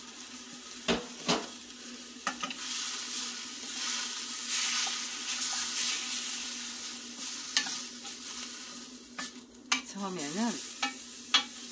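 Julienned radish and chicken breast sizzle over high heat in a pan with broth, a steady hiss broken by spatula scrapes and clinks against the pan; a few words are spoken briefly.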